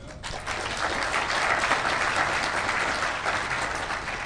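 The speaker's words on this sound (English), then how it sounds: "a round of applause, please" Dense, even applause fills the hall at a DEF CON hacking conference talk, a steady wash of many hands clapping that holds at full strength throughout.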